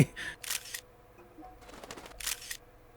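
Camera shutter sounds from taking in-game photos in The Legend of Zelda: Tears of the Kingdom, several short bright clicks and whirs in bursts over a low background hum.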